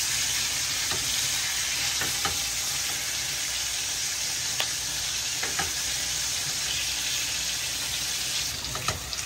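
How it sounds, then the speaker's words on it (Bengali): Potatoes frying golden brown with salt and turmeric in oil, a Bengali-style preparation: continuous close sizzling with several sharp spatula scrapes and stirs spaced through, no voices. "আলুগুলোকে একটু গোল্ডেন ব্রাউন করে ভেজে নিচ্ছে।"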